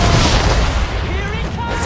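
Ship cannons firing during a naval battle in Assassin's Creed 3, a dense loud booming barrage with rumbling low end, heard under shouted commands and battle noise.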